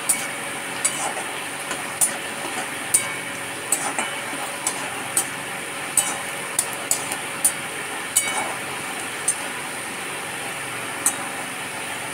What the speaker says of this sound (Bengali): পেঁয়াজটা আমি একটু ভালো করে ভাজবো